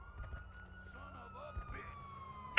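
A police siren in a mobile video game, holding a steady wailing tone across the whole stretch at moderate loudness, with a player's voice chattering over it and some game noise.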